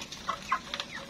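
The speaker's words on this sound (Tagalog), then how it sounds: "nagpapakain pa si Janbits ng ano, chicken" Free-range chickens in the Philippines give a few soft, quick clucks while being fed, faint and close together in a brief, quiet moment.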